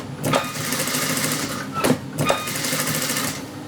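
A sewing machine stitches a bodice and skirt together in a close, loud whirring run, rising and falling in short bursts with a few brief pauses between.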